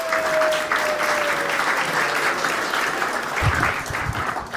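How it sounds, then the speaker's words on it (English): Steady applause from a crowd at the BioFarm 2023 event, many hands clapping continuously at a fairly loud, even level, with a faint tone and a brief low thump near the end. "Round of applause, please"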